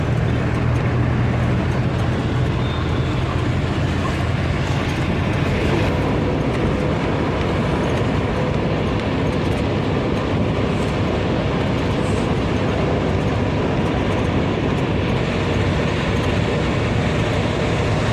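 A train rolls by at speed with a continuous heavy rumble and rattling carriages, loud and steady throughout with no voices over it.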